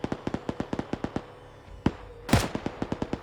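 Rapid rhythmic shots crack in a video game firefight, a quick regular series of sharp reports, then a louder blast after a short pause, followed by more evenly spaced shots.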